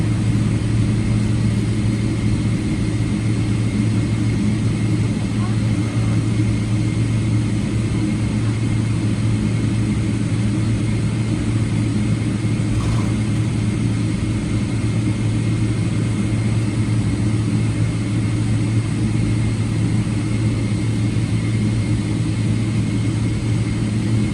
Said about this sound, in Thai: วันนี้เครื่องของเรานะครับจะเทคออฟจากรันเวย์หนึ่งหกขวาครับ